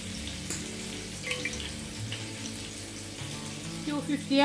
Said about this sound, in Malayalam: അപ്പോൾ ഇതാ 3 കപ്പ് വെള്ളം കൂടെ ഞാൻ ഇതിലേക്ക് ഒഴിച്ചു കൊടുക്കുന്നുണ്ട്